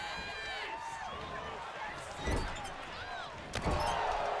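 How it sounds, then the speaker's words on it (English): Chop strike in a wrestling video game, Fred Fulgore hitting Jane Torres in the corner, lands as a sharp slap near 2.3 s, with a second impact around 3.6 s, all under steady commentary and crowd noise. "big chop from Fred Fulgore in the corner"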